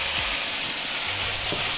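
Shredded cabbage and carrot frying in a hot pan for homemade chicken spring roll filling, a loud continuous close sizzle with faint stirring scrapes and no talking.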